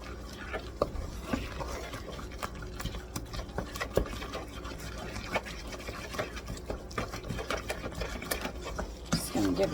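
Two eggs and a cup of homemade buttermilk stirred together in a bowl, a steady rapid wet whisking and tapping that runs continuously and close at hand, with a faint voice now and then.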